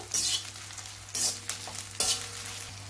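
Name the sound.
brinjal frying in oil on low flame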